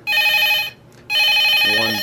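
A telephone rings loudly and close up in a quiet room, two bursts of bright electronic ringing separated by a short gap, with no talk over it.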